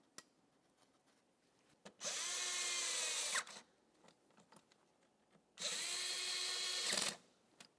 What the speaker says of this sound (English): Start in those bolts and then snug them up.